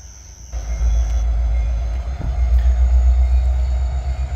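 A Union Pacific intermodal freight train rumbles loudly nearby, a heavy, steady low drone that starts abruptly and holds for several seconds, with a brief higher tone fading early on.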